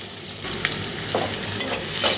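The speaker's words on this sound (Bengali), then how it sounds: "পেঁয়াজটা একটু লালচে বাদামি করে ভাজা হলে তারপর আবার আসছি" Onions frying in a pan toward a reddish brown sizzle steadily, with soft stirring scrapes and a brief louder burst of sizzle near the end. No one speaks.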